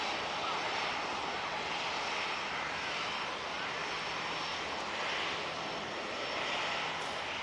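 An EasyJet airliner rolling onto the runway at Manchester Airport gives a steady, moderately distant jet engine drone with a constant whine, running unbroken and alone.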